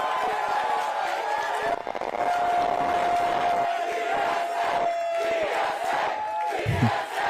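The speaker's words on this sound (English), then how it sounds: "So let's hear a round of applause for New York City DSA!" A rally crowd for New York City DSA cheers and claps loudly, with sustained shouting and whooping, a long held tone running through the middle, and a voice or two surfacing near the end.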